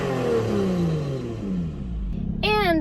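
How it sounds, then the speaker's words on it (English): A supercharged V6 in a Lotus Evora GT set to sport mode, its loud engine note sweeping steadily downward after a rev before a brief voice cuts in near the end. "Let's put her in sport mode."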